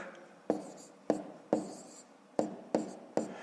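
Pen or chalk strokes writing numbers while working a long division problem, six sharp separate taps and scratches spaced unevenly, close and clear with no talk.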